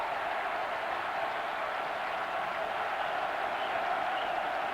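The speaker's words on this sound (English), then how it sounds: "the crowd at Death Valley getting into it" A football crowd at Death Valley stadium roars steadily during a third down play, a broad, constant wash of cheering noise with no breaks.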